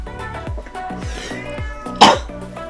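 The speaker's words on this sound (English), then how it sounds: "You hear the cat whining?" A cat whines with repeated short, strained meows in an uneven rhythm, close and fairly loud, with one sharper burst partway through.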